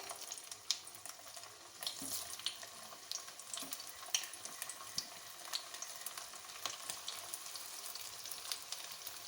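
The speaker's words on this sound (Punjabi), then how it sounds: "ਹੁਣ ਅਸੀਂ ਕਰੇਲਿਆਂ ਨੂੰ ਵਧੀਆ ਤਰ੍ਹਾਂ ਸਾਈਡ ਬਦਲ ਬਦਲ ਕੇ ਫਰਾਈ ਕਰ ਲਾਂਗੇ" Stuffed bitter gourds frying in hot mustard oil in a flat-bottomed kadai sizzle faintly and steadily, with scattered crisp pops and crackles and no voices.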